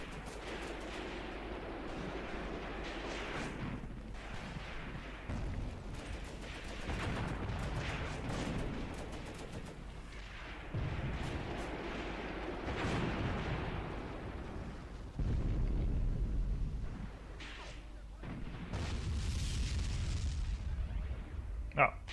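Mortar fire in the war game Graviteam Tactics, with repeated distant thumps and booming impacts spread across the stretch, some louder bursts near the end, while someone talks over it at times.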